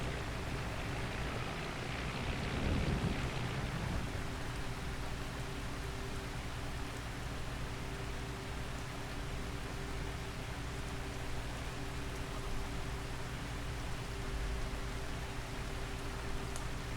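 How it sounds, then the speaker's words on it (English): Steady rain hisses evenly throughout, a soft continuous wash of falling water with a low hum underneath. "I want to get in out of the rain"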